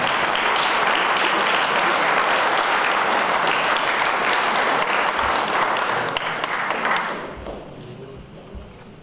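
An audience applauds at an award ceremony where a prize is collected by relatives, steady dense clapping that fills most of the clip before thinning and fading near the end, with faint voices beneath.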